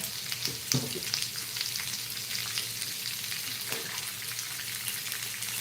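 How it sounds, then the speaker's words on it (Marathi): Onion fries in a pan toward browning, giving a steady moderate sizzle throughout with a couple of brief utensil knocks early on. "आता कांदा ना आपल्याला चांगला असं भाजून घ्यायचं आहे तांबूस रंगावरती होईपर्यंत"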